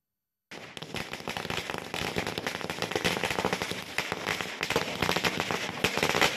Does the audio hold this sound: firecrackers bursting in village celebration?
yes